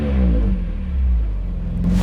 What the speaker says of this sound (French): M3 E46, messieurs, dames. Échappement Scorpion.